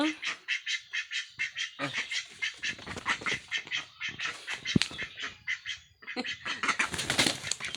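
Domestic ducks quack in quick bursts and flap their wings in alarm at close range, with scattered calls that fall quiet and then pick up again, and someone talks softly among them.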